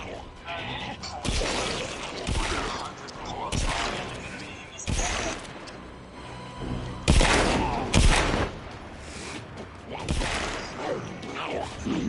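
Repeated gunfire bursts in the VR horror game The Slumber House, loud sharp shots spaced irregularly across the stretch with some clattering mechanical sounds between them and no speech over them.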